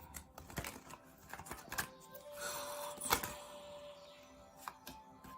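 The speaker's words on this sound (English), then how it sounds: "I'm really shuffling for the life of me on this one." Tarot cards riffled and shuffled by hand, a run of quick papery snaps and flutters in close, uneven bursts with small pauses between them and no voice.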